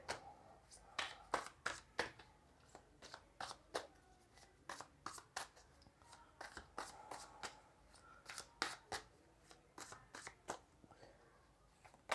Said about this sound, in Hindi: कुछ कार्ड्स और हम लेंगे एवरीडे विच ओरिकल से लेंगे कुछ कार्ड्स